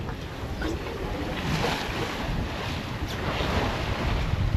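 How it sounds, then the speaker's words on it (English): Continuous wash of Atlantic sea water and wind around a boat, a broad rushing noise with gentle swells rising and falling, close to the microphone. "The sea's flattened off nicely. It's nice gentle swell."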